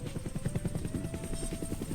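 Helicopter from the video game Sadovnik Shu, a steady rotor chop with a fast regular pulsing beat and a faint high whine, loud and continuous with no talking.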